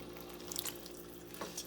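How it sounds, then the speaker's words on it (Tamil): Water runs into a cooking pot of chopped bottle gourd for a kootu, a steady close trickle and splash rising briefly near the end. "இப்போ என்ன பண்ணணுன்னா நம்ம வந்து இது வந்து முழுகிற அளவுக்கு நம்ம தண்ணி ஊற்றணும்"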